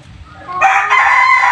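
A Paul Spark Gray gamefowl rooster crows once, loud and close, a bright drawn-out call that starts after a brief quiet moment with faint background noise.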